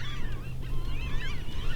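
Geese honk repeatedly from close by in falling rain and mist, overlapping nasal calls over a steady hiss of rainfall.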